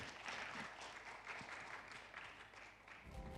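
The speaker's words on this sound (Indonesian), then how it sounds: "Beri tepuk tangan yang paling meriah." Audience applause at an Indonesian stage event as a guest is welcomed, steady dense clapping throughout, fairly loud and even, with a brief low thump near the end.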